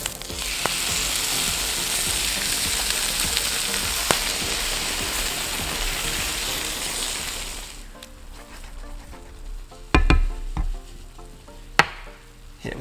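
Golden chickpeas frying in a pan, a loud steady sizzle that drops abruptly as canned tomato puree and diced fire-roasted tomatoes go in, then quieter bubbling with a few clanks and knocks.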